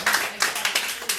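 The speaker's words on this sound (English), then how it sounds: "Clap it up for yourselves." A small audience at a poetry reading in a living room claps for themselves in a brief burst of close, dense applause.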